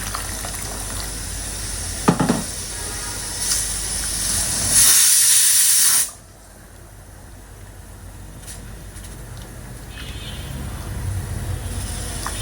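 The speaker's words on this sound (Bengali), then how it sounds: "আগে থেকে করে রাখা গরম পানি দিচ্ছি" Hot water poured into frying meat in a pan, a loud rushing hiss of steam that swells for a few seconds then drops abruptly to a softer simmer.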